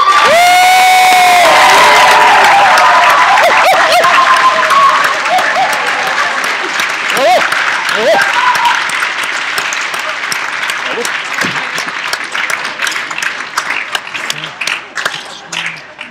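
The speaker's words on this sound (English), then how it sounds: "Okay, now's the time you get to cheer." A conference crowd of Native American tribal delegates cheers and applauds loudly and steadily, with whoops and shouts rising over sustained clapping before it thins out toward the end.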